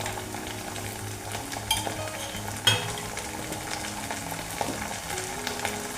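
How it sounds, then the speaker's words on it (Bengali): Ginger-garlic paste and spices sizzle steadily in hot oil over lightly fried onions for a Bengali bele fish curry, with a continuous close crackle and a few sharp stirring scrapes; no one speaks. "খুব একটা বেশি লালচে করে ভাজছি না।"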